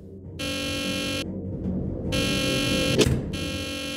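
Alarm blaring in Nancy Drew: The Deadly Device, a loud harsh buzzing tone sounding in long on-off bursts with a thud and rumbling background between blasts.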